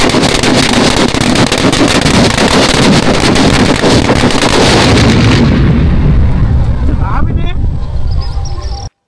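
A large country firecracker (naattu vedi) going off outdoors, a loud, roaring broadband blast that fills the first several seconds and then thins into a rumbling decay with faint voices toward the end.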